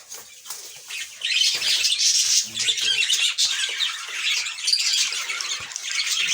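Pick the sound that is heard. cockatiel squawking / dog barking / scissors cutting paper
cockatiel squawking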